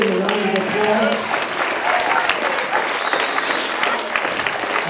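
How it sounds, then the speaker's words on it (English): Guests at a 90th birthday celebration applaud, a full, steady round of clapping from a crowd that holds throughout, with voices and a few calls mixed in near the start. "Please give him a round of applause."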